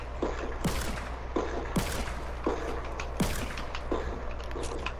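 Repeated gunshots from Fortnite gameplay, five sharp bursts spaced roughly a second apart over a steady low hum, each with a quick decaying tail and some clatter between.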